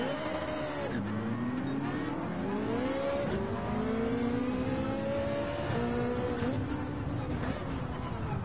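A Ferrari in Gran Turismo 7, heard from the cockpit, revs hard with rising and falling engine pitch and brief dips at gear changes, held loud and steady throughout.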